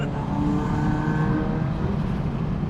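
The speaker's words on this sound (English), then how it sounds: "the turbo spool sounds like a freaking jet" A turbocharged Toyota GT86/Subaru BRZ accelerates hard, its engine a steady close roar with a rising turbo whoosh over it, heard from inside the car and without talk.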